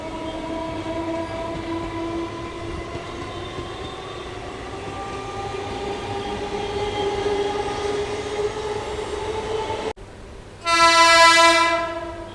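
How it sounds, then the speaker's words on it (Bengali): A twelve-coach local train rolls into Howrah station on the down line with a long rising rumble and whine. After a brief gap, a loud, sustained horn blast sounds close by. "ডাউনে আরেকটা ট্রেন কিন্তু হাওড়ায় ঢুকছে"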